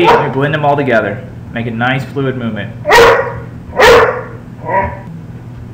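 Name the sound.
dog barking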